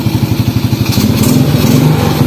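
A Honda Supra X motorcycle engine is blipped in first gear with the clutch engaged, giving a close, pulsing putter that rises into a steadier, busier rev.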